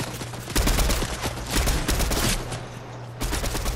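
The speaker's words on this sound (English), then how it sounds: "Ooh, shots fired, shots fired." Rapid bursts of gunfire from the Fortnite video game, loud and close, firing in dense repeated volleys with a brief lull near the middle before shooting resumes.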